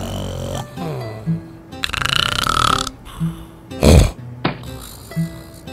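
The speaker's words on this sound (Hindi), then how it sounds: "आपको सिर्फ दो तरह के खर्राटे पता होंगे।" A husband snores loudly at close range in several different styles: rasping snorts, gurgling breaths and a harsh burst near the end, with short pauses between them.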